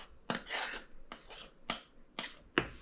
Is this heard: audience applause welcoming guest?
no